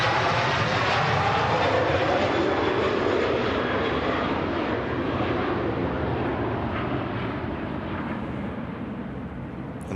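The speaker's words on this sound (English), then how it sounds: "And off blasts the Aer Lingus 330 to Bridgetown. Beautiful sound as that aircraft departs." Aer Lingus Airbus A330 airliner taking off from Manchester Airport, a loud, continuous jet-engine roar that holds steady and slowly fades as the aircraft climbs away, with no voices.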